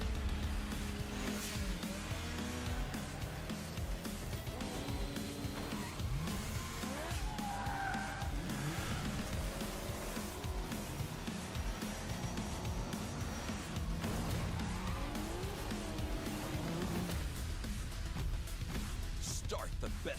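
A race car skids in the Race with Ryan racing video game trailer, with engine roar, tire squeals and sliding tires layered over a steady loud bed of motor noise and music-like effects throughout.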